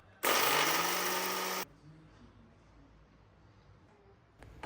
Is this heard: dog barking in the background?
no